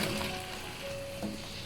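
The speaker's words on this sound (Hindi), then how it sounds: "अब इसमें मैं गोश्त डाल के उसको भून लूँगी।" Meat frying in a pot with softened onions and tomatoes for Afghan Kabuli pulao, a steady close sizzle with faint stirring scrapes, no talking.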